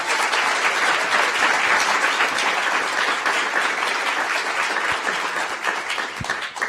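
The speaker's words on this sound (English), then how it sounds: "Could you please give them a round of applause?" An audience at a science and literature awards ceremony applauds the honorees, with dense, steady clapping filling the room that tapers slightly near the end.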